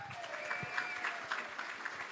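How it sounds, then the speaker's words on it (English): Audience applause for about 500 young leaders at a plenary session on gerrymandering, a short burst of crowd clapping heard at moderate distance with a faint tonal hum underneath. "Let's give them a round of applause"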